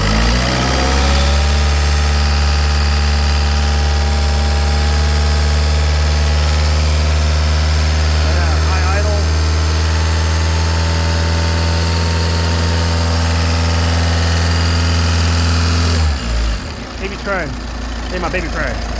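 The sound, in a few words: 2014 VW Passat TDI diesel engine at high idle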